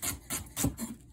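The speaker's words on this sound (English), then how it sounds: "Just run your knife through." A knife makes a coarse chop through vegetables for chili in an RV kitchen: four quick, raspy cutting strokes in an even rhythm, close and fairly quiet.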